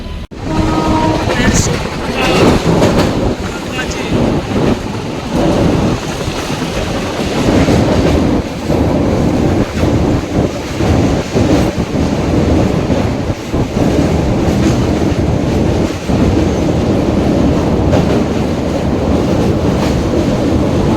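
Jaynagar Intercity Express (15550) running from Sonpur Junction toward the Sonpur bridge on the Muzaffarpur–Patna route, loud continuous rumble with rhythmic clickety-clack of wheels over rail joints, heard close from inside the moving train.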